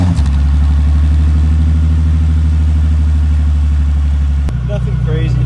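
A small V6 car engine runs loud and close at the exhaust, a steady rumbling idle that cuts off sharply near the end, followed by faint chimes.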